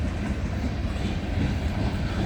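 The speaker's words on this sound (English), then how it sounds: "GECX tank train." A CN freight of GECX tank cars rolls past at night on the York Subdivision near Snider, a continuous heavy rumble with rhythmic clickety-clack of wheels over rail joints, close and steady throughout.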